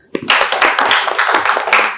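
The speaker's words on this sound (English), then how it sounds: "So please give a huge round of applause for her." An audience bursts into applause for the Bihar state representative at a mock Prime Minister meeting group discussion, brisk close clapping with a sharp onset that continues for about two seconds.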